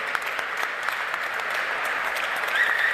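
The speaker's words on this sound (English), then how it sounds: "Please give them another warm round of applause." Warm audience applause at a Fed Cup tennis finals draw ceremony, a dense, steady clapping from a large crowd, loud and continuous with no voices over it.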